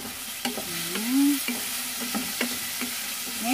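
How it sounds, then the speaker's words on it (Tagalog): Spinach, squash and eggplant are stirred in a frying pan: a utensil scrapes and clatters against the pan in uneven strokes over a steady close sizzle. "Haluin po natin."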